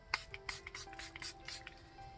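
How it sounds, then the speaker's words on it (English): Water being sprayed from a spray bottle onto a handmade card decorated with Distress Oxide inks: several short, soft, misty spritzes in uneven rhythm, quiet and close, with no talking. "now let's spray it with water"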